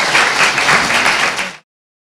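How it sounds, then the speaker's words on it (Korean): An audience in a Korean talk show studio applauds, a dense, loud burst of many hands clapping together for about a second and a half before cutting off abruptly. "다시 한번 박수 좀"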